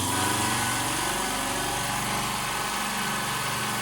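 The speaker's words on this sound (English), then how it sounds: "I'll kick in the compressor now, and you'll hear it fire up" A silent-type air compressor runs steadily close by at a fairly loud, even level, giving an engine-like hum with no talking over it.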